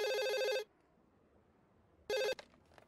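A telephone rings during an outgoing call: one electronic ring burst, a pause of quiet, then a second burst that cuts off abruptly, with no talking.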